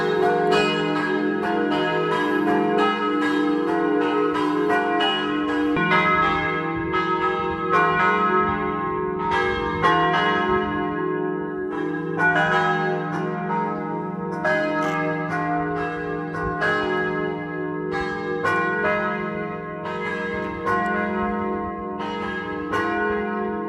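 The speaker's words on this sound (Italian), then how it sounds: "mentre sfuma il suono delle campane" Church bells in Friuli Venezia Giulia, Italy, ring continuously in a rich, overlapping peal during morning prayers, steady and full throughout with no voices.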